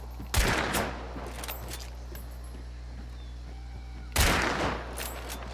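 Two loud, close gunshots ring out in Hunt: Showdown several seconds apart, each a sharp crack trailing into a long rumbling echo over a low steady hum, with no voices.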